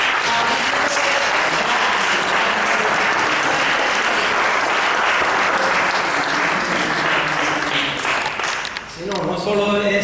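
A crowd at a 26 July celebration event in Jinamar, Telde, Canary Islands applauds steadily for about nine seconds to welcome a guest, the clapping dense and sustained before tailing off as a voice begins.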